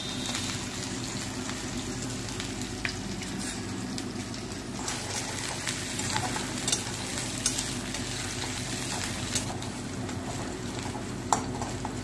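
Garlic frying in a pan for a home-style Odia khada santula and fried greens, a steady close sizzle with occasional stirring scrapes, with no voices heard.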